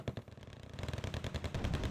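Heavy .50 caliber machine guns fire in rapid, continuous bursts during video game combat. The fast, rattling pops are fairly faint and distant and keep up a steady rhythm throughout.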